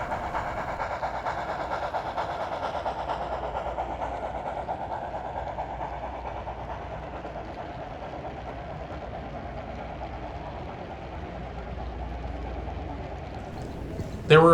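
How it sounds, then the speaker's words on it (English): A model K27 locomotive hauls a long manifest freight on a narrow gauge layout, a steady rumbling roll of wheels on track with a soft continuous clatter at moderate distance, ending in a brief louder knock. "we see an earlier model K27 pulling a long manifest freight"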